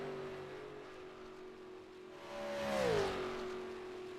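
A NASCAR stock car in the iRacing game sim drives down the Daytona front straightaway, its steady engine drone swelling loud as it passes, the pitch dropping in a smooth Doppler sweep, then fading away.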